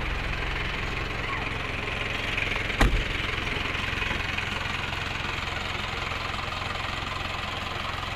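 A 4x4 OTJ vehicle engine idling steadily and close up, a constant mid-pitched rumble with a single brief knock partway through.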